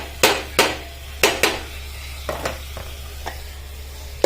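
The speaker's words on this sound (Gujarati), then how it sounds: "અહીંયા હું ફેરવું લઉં છું શાકને" A spoon scrapes and knocks through spinach, dill and potato curry in a pan, cooked in a traditional village style: a few distinct clacks, spaced unevenly and fading, over a steady low hum.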